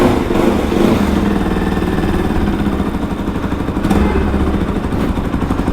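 A Bajaj NS200 motorcycle engine with a left-side noise fault runs loud and close in a steady, rough drone, holding a continuous mechanical clatter with slight swells in pitch throughout.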